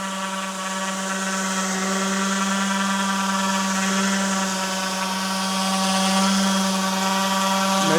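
A DeWalt 20V DW210B random orbital sander runs on a 5Ah battery, sanding paint. It gives a steady, loud motor whine with a high buzzing edge that holds without pause, with no talking.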